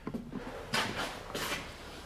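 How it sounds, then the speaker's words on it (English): A door or drawer opens or closes in a quiet indoor space during a paranormal investigation, with two soft, brief scraping knocks about half a second apart, fairly close and alone. "sounded like a door or something."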